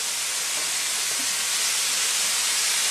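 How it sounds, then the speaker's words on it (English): Minced meat going into a pan of cooked-down vegetables, sizzling as a steady, fairly loud broadband hiss that fills the clip, with no talk over it. "Now I can add my minced meat in."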